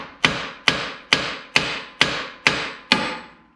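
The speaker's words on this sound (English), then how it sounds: "we'll try the hammer first" Seven evenly spaced metallic hammer whacks on a Jeep tie rod end, each a sharp bright strike with a short ringing decay, loud and close with no talking.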